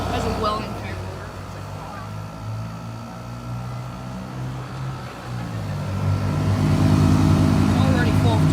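A Frigidaire air conditioner with a welded fan motor runs outdoors with a steady low mechanical drone that grows a little louder toward the end. A person talks over it.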